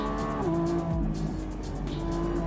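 A Lamborghini Revuelto driving around a race track, its engine tone holding and then dropping as it shifts, loud and close as if heard from inside the car, with no talking.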